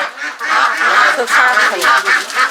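On a Bangladeshi duck farm with well over a thousand birds, ducks quack and honk in a loud, near chorus of overlapping calls that continues throughout.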